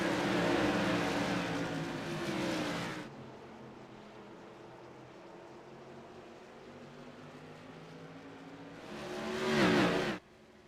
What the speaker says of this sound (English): 80 laps at the Stafford Speedway, and let's go racing.